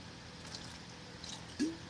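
Water is poured into a thick MRE chicken stir fry in its pouch, giving a short wet squish and splash near the end amid quiet room noise.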